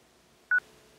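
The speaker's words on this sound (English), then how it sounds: "Enter the meeting pin followed by the pound key." A single short DTMF keypad tone sounds once, clear but brief, as a meeting PIN is entered on a phone dialing into a Google Meet call, against near silence.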